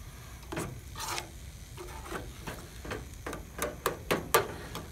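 Cream cheese being stirred into a pot of grits, a series of close, wet scraping strokes with a spoon, sparse at first then quicker and louder toward the end, with no talking.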